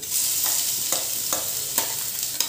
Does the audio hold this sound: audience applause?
no